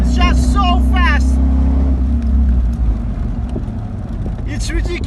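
A 1994 Ford Mustang GT SN95 engine roars loudly under throttle, then the note drops and eases off, heard from inside the car while someone talks over it at the start and end.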